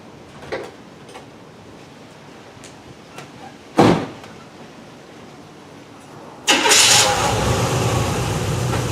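A 1979 Camaro engine cranks and catches near the end, settling into a loud, steady idle after a few earlier clunks that could be doors.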